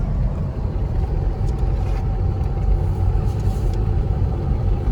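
A car cruising along a highway near Chita, giving a steady, loud low rumble of engine and road noise that continues without a break throughout.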